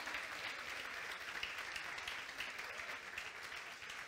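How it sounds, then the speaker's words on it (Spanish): A congregation in a church claps steadily for about four seconds, a dense, fairly faint wash of hands without a break. "Aplaudan duro, para aplaudan duro"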